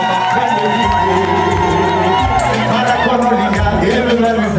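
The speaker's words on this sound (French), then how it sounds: "est-ce qu'on peut applaudir pour ce qu'on est en train de vivre?" Gala evening audience cheering loudly and continuously, with whoops, shouts and crowd babble filling the room, dense and close throughout.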